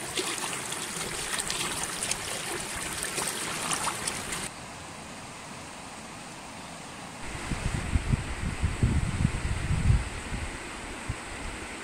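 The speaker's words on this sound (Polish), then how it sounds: "I ta woda się dosyć gwałtownie przelewa do drugiego." Water spilling forcefully over a roughly three-metre drop from one lake into another in Norway, a steady broadband rush that drops away midway and then returns with heavier low churning.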